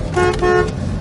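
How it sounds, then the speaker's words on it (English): A 1970 Chevrolet Chevelle's horn gives two short, loud toots in quick succession, close by and alone. "A horn that works."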